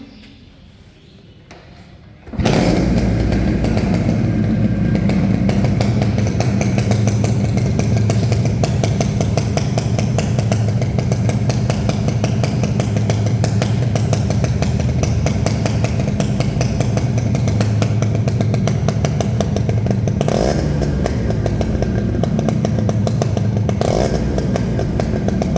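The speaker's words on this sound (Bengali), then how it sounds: "শুধুমাত্র কিক লাগানোর সাথে সাথে গাড়ি স্টার্ট।" A Yamaha RX 115 two-stroke motorcycle from Japan fires up on the kick start after a quiet moment, then idles loud and close with a rapid, buzzing, steady beat, briefly revved twice.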